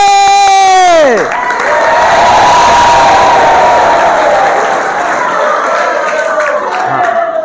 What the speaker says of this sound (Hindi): हाँ हम लोग ऐसा ताली बजाते हैं.